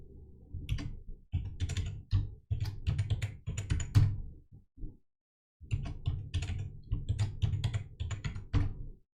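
Keys clatter on a computer keyboard in quick bursts of close, crisp taps as a password is entered, with a brief pause midway before the typing resumes.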